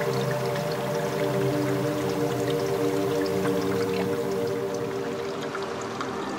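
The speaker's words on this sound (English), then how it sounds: "Water draining out of these rock pools" Seawater draining out of shallow tidal rock pools at low tide, a steady, continuous rushing and pouring of water that stays loud and even throughout.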